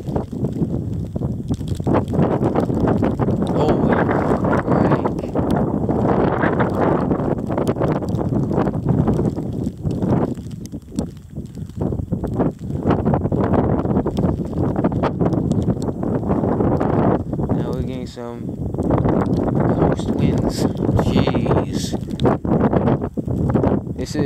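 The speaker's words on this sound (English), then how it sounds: "The wind's coming from the east, so we gotta go down this way." Strong east wind in a winter storm buffets the microphone in heavy, roaring gusts that surge and ease throughout, loud and close, with no clear speech.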